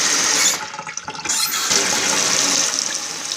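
Tap water runs steadily from a faucet fitted with a colour-changing LED light, a loud continuous splash and rush that dips briefly near the start before resuming evenly, with no voices.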